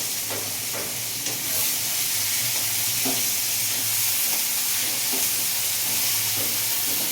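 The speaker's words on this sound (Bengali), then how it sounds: "এবারে পেঁয়াজ দিয়ে দিচ্ছি। পেঁয়াজটা দিয়ে দিলাম।" Onions sizzle and crackle in hot oil in a pan while a country chicken curry is cooked, a steady close frying hiss with occasional stirring scrapes and no talk.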